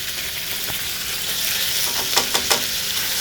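Chicken frying on high heat in a pan gives a steady, loud sizzle throughout, with a few sharper crackles and stir scrapes near the end.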